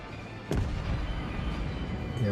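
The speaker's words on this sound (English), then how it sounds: "So I fire with my forward guns" In World of Warships, a warship's forward guns fire in one heavy artillery boom, followed by a rumbling low-end tail that carries through the rest of the moment.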